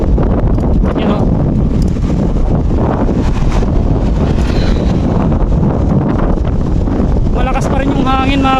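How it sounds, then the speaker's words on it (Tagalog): Loud, constant headwind buffets the microphone while riding a BMX bike, a heavy roaring rush that drowns out most other sound, with a voice briefly audible underneath. "Malakas pa rin yung hangin mga kapartner."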